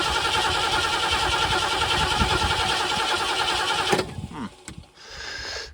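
A 1973 Ford Mustang Fastback, left rotting for 30 years, cranks with a loud, rapid rhythmic churn for about four seconds, then stops with a few sputters before the engine catches and settles into a rough idle.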